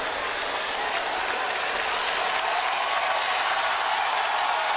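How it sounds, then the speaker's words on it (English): A stadium crowd at a 2009 NFL game between the Texans and Titans roars continuously, a dense, loud, unbroken wash of cheering with no clear voice above it. "And listen to this crowd."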